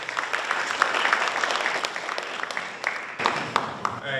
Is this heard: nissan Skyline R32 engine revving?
no